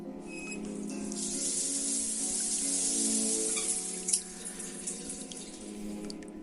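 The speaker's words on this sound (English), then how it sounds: "I can already open the tap with no risk of losing the shiny object below." Water gushes steadily from an opened tap in the horror point-and-click game The Last Door, a loud continuous splashing rush that holds for several seconds, then eases off with a few faint clicks.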